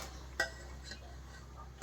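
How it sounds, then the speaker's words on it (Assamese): Chicken pieces are stirred in oil in a pot for biryani, with two sharp spoon clinks against the metal, one early and one at the end, over a quiet, steady kitchen background. "এয়া মাংস দি অলপমান লৰাই দিব লাগিব।"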